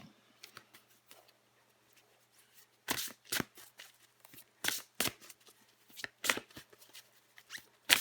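Tarot cards being shuffled in the hands before one is drawn, a run of quick papery riffles and flutters in bursts, close and fairly soft, with no one talking.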